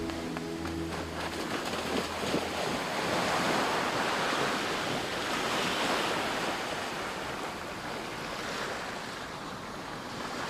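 Ocean surf and waves around the Marquesas Islands, heard from a boat at sea, make a broad continuous wash of water and wind noise that swells gently and runs without pause, with no voices.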